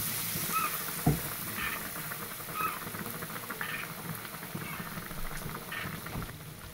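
Bread aloo patties fry in hot oil, giving a soft, steady sizzle and crackle close by, with a few light knocks of utensils and small bursts of spitting oil and no talking.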